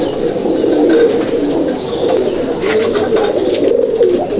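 Pigeons coo steadily and loudly at close range inside a loft housing Andhra and Madrasi breeds, overlapping low throaty burbles continuing throughout with no talking.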